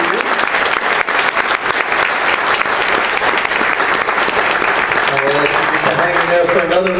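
Sustained, loud applause from a large audience at a school board meeting honoring National Merit Scholarship students, a dense roar of clapping that carries on without pause, with a voice speaking faintly under it near the end.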